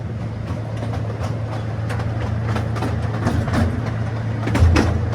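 A steady low rumble of a passenger train at Sauder Village rolling along the tracks, with faint rhythmic clicks and a swell near the end, no talking.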